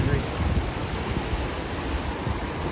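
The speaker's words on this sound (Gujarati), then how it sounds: "જોઈ જો ભાઈ પાણીનો ફોર્સ જોઈ લો તમે" Forceful river water rushing past at a rafting spot, a loud, steady broadband roar filling the whole clip with no pause, mixed with wind buffeting the microphone.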